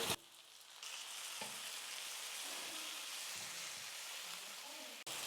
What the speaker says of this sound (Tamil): தக்காளியும் நல்லா வதங்கி வந்துருச்சு.